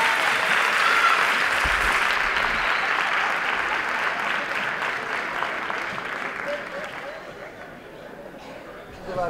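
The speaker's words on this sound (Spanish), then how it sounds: "Un fuerte aplauso para ellos." Loud, sustained audience applause greets a carnival dance group about to perform a Charleston at a 2019 carnival groups' gathering, a dense wash of clapping that slowly thins and fades, with voices mixed in.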